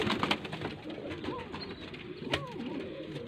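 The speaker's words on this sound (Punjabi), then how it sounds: "ਸਹੀ ਸਹੀ ਹੈ ਜ਼ੀਰਾ ਕਬੂਤਰ ਹੈ ਵੱਡਾ" Pigeons coo in a loft at a Faisalabad pigeon seller's, including a large Zira pigeon, giving soft, low burbling calls that run on throughout with a louder swell near the end.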